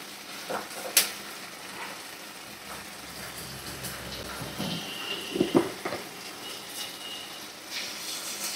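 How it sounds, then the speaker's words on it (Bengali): Chopped chicken pieces cooking in a pan, a faint steady sizzle with a few sharp clinks and scrapes scattered through it, no talking. "আর টুকরো করে কাটা চিকেনটাও দিয়ে দিলাম, কারণ এটা ভালো করে সিদ্ধ হবে।"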